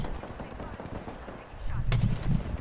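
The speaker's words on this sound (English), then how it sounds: "Oh, I almost got sniped." Apex Legends gunfire in a fight, with a sniper round among it: a steady rattle of rapid shots, then a sharper loud crack followed by heavier bursts near the end.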